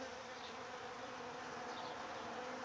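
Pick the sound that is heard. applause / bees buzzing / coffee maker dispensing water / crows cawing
bees buzzing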